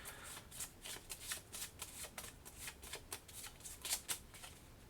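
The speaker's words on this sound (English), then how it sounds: "We shuffle this up again." A deck of game cards is shuffled for the board game Aeon Trespass: Odyssey, producing a close, steady run of crisp riffling and flicking bursts that repeat rhythmically for several seconds with no talk.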